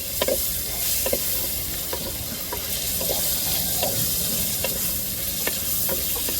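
Tomatoes for goat intestine curry sauté in a hot pan with a continuous loud sizzle, punctuated by regular clicking stirs of a spoon against the pan.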